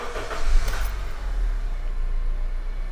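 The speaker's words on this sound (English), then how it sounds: "and then I'm gonna start the vehicle" A car engine starts up and settles into a steady low rumble, close by, with a brief rise of starter and ignition noise near the start.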